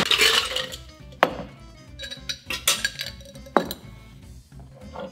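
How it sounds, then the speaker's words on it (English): Ice clinks and knocks into a highball glass and a cocktail shaker while a Tom Collins is made, giving a few sharp, close impacts spread over several seconds with a lighter ringing rattle between them. "So now it's time to ice up the glass and ice up the shaker."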